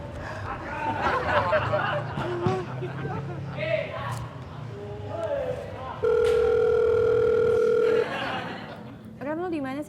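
A telephone call tone, a single steady electronic beep lasting about two seconds, heard after a stretch of people talking and laughing in a room.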